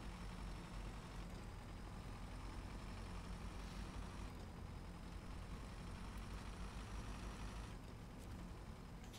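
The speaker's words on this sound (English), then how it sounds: "We gotta grab the Azov and we're gonna drive across." An Azov truck engine in the SnowRunner video game drones steadily and loudly, a dense continuous rumble with no talk.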